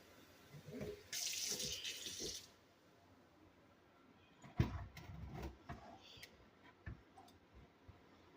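A brief stream of water pours into a gold pan for about a second, followed by quiet clinks and taps of metal and handling sounds, all faint.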